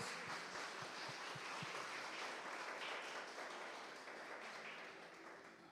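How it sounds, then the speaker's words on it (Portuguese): Church congregation applauding together, a steady, dense wash of many hands clapping that carries on evenly and slowly fades toward the end, with a faint voice briefly underneath. "Vamos aplaudir o nome do Senhor?"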